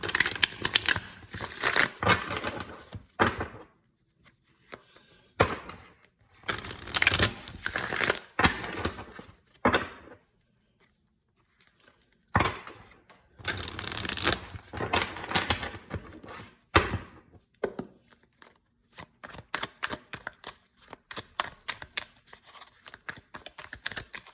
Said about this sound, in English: Just going to shuffle first